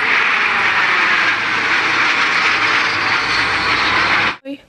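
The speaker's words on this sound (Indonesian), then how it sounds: "Wow, lihat teman, di sini ada pesawat jet Sukhoi." A toy Sukhoi jet plane plays a loud, steady electronic jet engine roar that holds for several seconds and then cuts off abruptly, followed by a brief faint sound.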